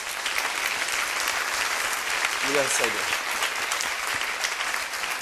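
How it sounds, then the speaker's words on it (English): An audience gives sustained, dense applause at a golf tournament event, a loud continuous wash of clapping with someone briefly speaking through it partway in. "Please give him a round of applause."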